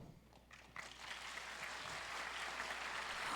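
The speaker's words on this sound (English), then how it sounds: "let's give a big round of applause to our presenters" Faint audience applause builds from scattered claps into sustained clapping from a crowd, heard at a distance.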